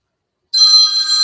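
Telephone ringtone for an unknown caller starts abruptly after a moment of silence, then rings out as a bright, clear, steady electronic tone, close and alone.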